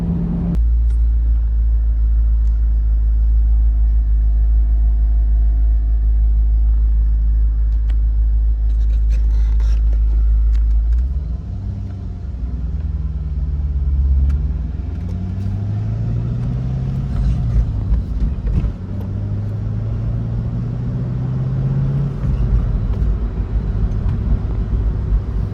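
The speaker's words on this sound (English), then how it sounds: "So you really have to be up in the RPMs to even really hear anything, or even like rev it." Chevrolet Corvette C5 with a muffled exhaust idling at a low rumble, then revving in several rising and falling sweeps, heard up close and fairly loud with no talking.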